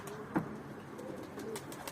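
Pigeons coo softly while landing during a Turkish pigeon flying session, faint low murmurs with one brief louder note near the start, set against a steady outdoor hum.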